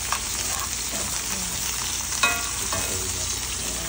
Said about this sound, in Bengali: একটু পটেটো সটে করব।